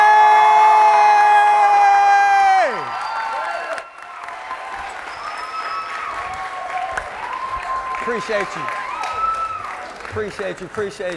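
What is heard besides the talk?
audience applause and cheering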